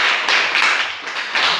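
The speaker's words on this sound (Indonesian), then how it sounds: "Berikan tepuk tangan dulu" Classroom of students clapping hands together, a dense, steady burst of group applause filling the room for about a second and a half, loud and close with no talk over it.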